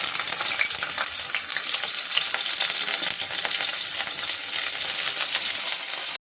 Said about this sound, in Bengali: এবার তেলের মধ্যে ছেড়ে দেবো।